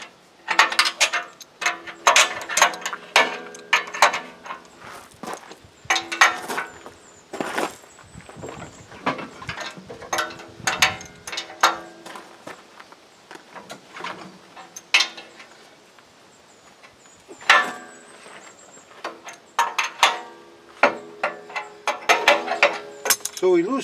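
A ratchet works loose the bolts on a lane grader in sharp clicking bursts, repeated strokes with pauses between, close up with a faint voice now and then.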